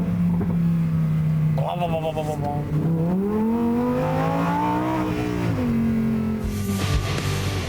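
A 2022 Lamborghini Huracán Tecnica's engine revs loud and close, its steady drone climbing in pitch and falling back, with a brief voice partly over it.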